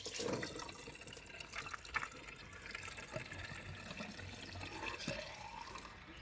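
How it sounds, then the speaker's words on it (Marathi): Water runs and splashes quietly into a container, with small drips and clunks, fairly faint and steady throughout. "पाणी आता भर सांडू दे"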